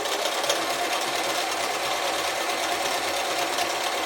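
A German-made Singer 720 sewing machine runs a zigzag satin stitch at minimum pedal speed, a fast steady mechanical whirr and needle clatter at close range with no pause.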